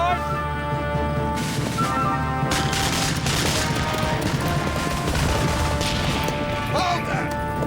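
Musket volley on a period battlefield, a dense crackle of near-simultaneous shots and clattering impacts building into a loud, continuous barrage with voices shouting underneath.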